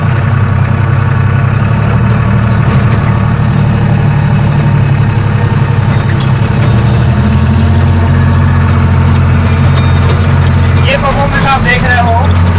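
Farmtrac Promaxx 45 HP tractor in low second gear at 1800 RPM, pulling a 6.5-foot rotavator through hard stony soil near Bangalore; a loud, steady diesel drone with a low throb runs throughout under speech.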